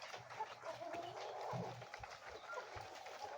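Farm chickens cluck softly in a layer hen coop at egg harvest time, with short, low calls scattered over a faint, steady background hum.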